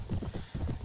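Horse hooves clip-clopping with a neigh in the video game Mount & Blade: Warband, close and fairly loud, with no talking.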